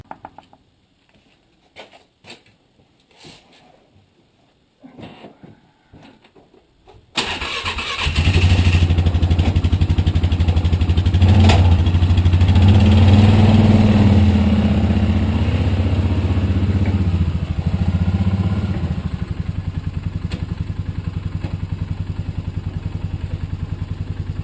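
A four-wheeler engine cranks and catches after a few quiet clicks and rustles, then idles steadily with a loud, even mechanical rumble for the rest of the time.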